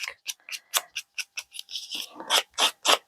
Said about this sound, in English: All I'm doing is going across here like so with my scissors.